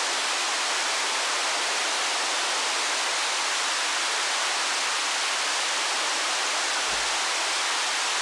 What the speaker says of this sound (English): like flowing water